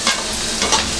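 Cumin and asafoetida sizzling in hot oil for besan kadhi, a loud, steady crackling fry with two brief surges as the spices hit the pan, close and without speech.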